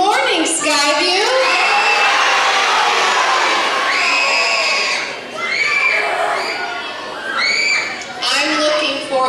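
A crowd of school students at a morning assembly screams and cheers loudly in unison, sustained shrieking shouts that dip briefly and then surge again.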